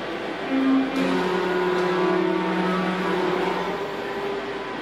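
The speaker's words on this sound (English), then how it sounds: "the raising and lowering of a complete Meridian train on the 20-ton jacks" A complete Meridian train raised and lowered on 20-ton jacks at an Etches Park depot open day, a steady low hydraulic drone with sustained tonal hums, moderately loud and continuous, slowly shifting in pitch.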